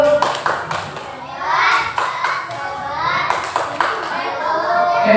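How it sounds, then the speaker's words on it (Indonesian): A second-grade primary school class performs a patterned salute clap for a classmates' group, with sharp hand claps in rhythmic clusters and children's voices chanting and talking along throughout. "Kita kasih tepuk salut buat kelompok satu."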